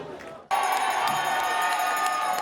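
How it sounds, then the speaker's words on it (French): A crowd honoring the cooks of Guadeloupe bursts into applause and cheering all at once, a loud continuous wash of clapping and voices that holds steady after a quiet moment. "Et je vous demande de vous applaudir, vous autres."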